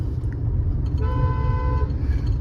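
A single steady car horn honks for about a second over a low rumbling engine on a highway, close and loud.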